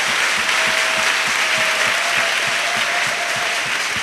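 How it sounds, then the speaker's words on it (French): A church congregation claps together during a French-language sermon, a loud, continuous wash of applause with a steady rhythmic beat running through it, filling the room without any speech on top. "Clap to Jesus."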